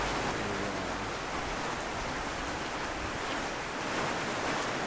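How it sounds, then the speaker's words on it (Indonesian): Heavy rain pours down in Brebes, Indonesia, a dense, unbroken hiss that stays even and close throughout. "hujannya gede."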